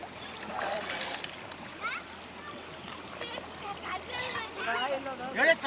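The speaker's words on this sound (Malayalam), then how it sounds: "വെള്ളം കളയട്ടെ." Water splashes and sloshes as it is poured off a haul of freshly gathered clams at a drained waterside, and people talk over the splashing.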